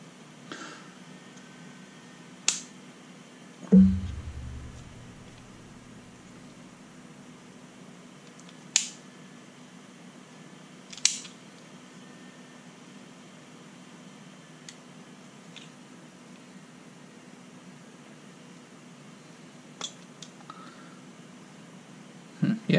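A cutting tool with its tension cranked down snaps through wire near the microphone. A few sharp, isolated clicks and cuts stand out against a quiet hum in the room.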